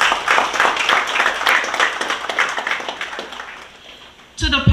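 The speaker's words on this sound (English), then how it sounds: "Give them a round of applause" Audience applause at a 2023 secondary school graduation ceremony, a dense steady roar of many hands clapping loudly for several seconds, tapering slightly before a voice cuts in at the end.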